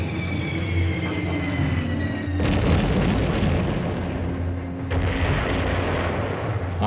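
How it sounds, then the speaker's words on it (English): Heavy wartime bombing of an abbey during World War II: a continuous deep roar of explosions and rumbling with sudden louder blasts, dense and sustained throughout. "so American forces bombed it"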